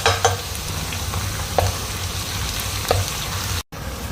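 Onion, garlic and ginger frying in oil in a pan, giving a steady close sizzle with a few sharp stirring clicks, then cutting out briefly near the end.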